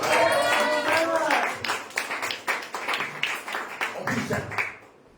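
A church congregation claps together to thank God, a dense burst of handclaps that thins into scattered, uneven claps and fades out near the end, with voices mixed in.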